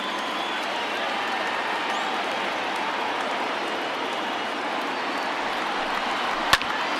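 A large baseball stadium crowd of over 39,000, on their feet in MLB The Show 20, sends up a steady, dense roar of cheering that holds throughout, with one brief sharp crack near the end.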